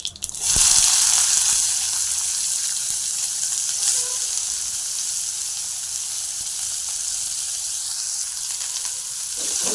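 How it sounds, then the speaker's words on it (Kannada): Mustard seeds crackle and onions fry in hot oil for a gourd stir-fry, a steady loud sizzle with a hiss running throughout, near and alone with no talking. "ಸಾಸಿವೆ ಚಟಪಟ ಚಟಪಟ ಅಂತ ಸಿಡಿಸ್ತಾ ಇದ್ದಂಗೆ ಈರುಳ್ಳಿ ಹಾಕೊಳ್ತಾ ಇದ್ದೀನಿ"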